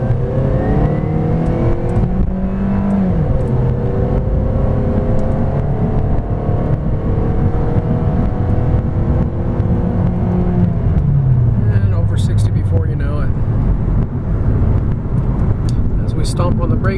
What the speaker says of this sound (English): this vehicle up to 60 with the air conditioning blasting, going up a hill, putting maximum strain on the vehicle